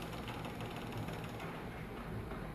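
A split air conditioner's internal mechanism moves as the unit switches off, giving a steady, quiet mechanical whirring with fine ratchet-like clicking that runs evenly for a few seconds with no voices.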